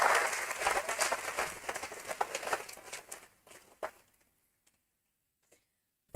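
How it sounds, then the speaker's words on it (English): Crowd applause at a stock exchange listing ceremony for Groww at BSE, a dense burst of clapping that thins out and fades to near silence after about four seconds. "Can I have a huge round of applause for that?"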